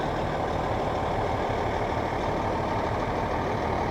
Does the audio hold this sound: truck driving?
yes